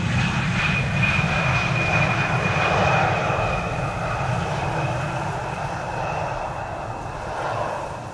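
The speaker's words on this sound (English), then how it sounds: "an Embraer 175 coming in from Prague in the Czech Republic" An Embraer 175 airliner on arrival at Amsterdam Schiphol Airport in stormy wind gives a loud, steady engine roar, mixed with gusty wind rumble and no talk.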